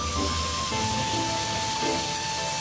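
Cured pork stir-fried over medium-low heat in a hot oiled wok gives a steady, close hiss of sizzling fat that runs continuously throughout, with a faint tonal whine above it and no talking.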